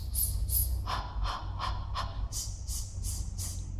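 A singer's breathing warm-up exercise: a series of short, sharp breaths, a run of quicker hissing inhalations and then a run of slower exhalations, repeated rhythmically close up over a steady low hum.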